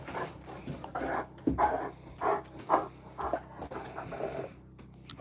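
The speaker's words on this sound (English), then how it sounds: "Artie, you're a young puppy." A young puppy gives short yaps and whimpers with panting in between, close and uneven, with no talking over it.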